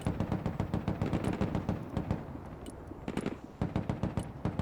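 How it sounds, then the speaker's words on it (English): Sustained bursts of machine gun fire from towers in the Broken Arrow military strategy game, rapid overlapping rattles with heavy low thumps, loud and continuous with a brief dip before resuming. "Keep the suppressive fire up from the other towers."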